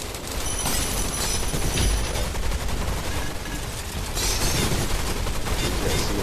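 Dense, continuous gunfire from the Gun Raiders video game, with sustained overlapping shots and booms filling the whole stretch, loud and unbroken.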